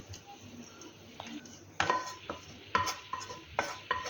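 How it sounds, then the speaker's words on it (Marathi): Cumin, mustard seed, onion and tomato tempering being stirred into a soaked wheat flour batter, with a spoon scraping and clinking against the bowl in a series of close, sharp knocks after a quiet start. "आता यामध्ये आपण तयार केलेली फोडणी टाकून घेऊया"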